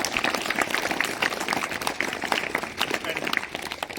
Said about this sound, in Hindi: तो एक बार शानदार तालियां आदर्श भास्कर के लिए